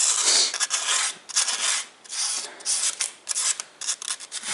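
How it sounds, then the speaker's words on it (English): Sandpaper rubs by hand around the inside of a wooden rosette in short scratchy strokes, each stroke a close rasp separated by brief pauses, with no talking. "Anywhere you see some spots where you could use some sanding."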